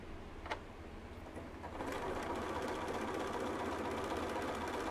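A sewing machine stitches a ruffled edge blanket, starting after a couple of soft clicks and then running in a fast, steady whir close by, with no voices.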